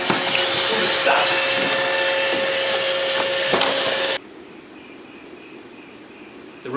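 A Roomba robot vacuum cleaner runs with a loud, steady whir and a constant tone, then cuts off abruptly partway through, leaving faint background noise.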